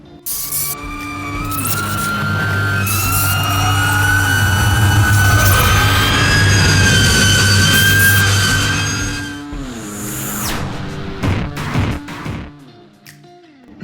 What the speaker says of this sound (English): that sound is obviously those motors whirring away